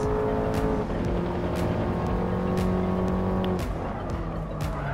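Race cars launching at the start of a race in the video game Gran Turismo Sport, a dense roar of several engines revving and shifting together, with faint tire squeal, loud and continuous.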